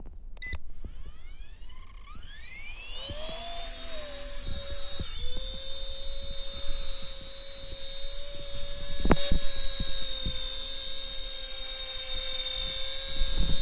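An RC EC 145 helicopter motor spools up in a rising whine for automatic takeoff, then holds a steady high-pitched buzz with a sharp knock partway through, close and clear.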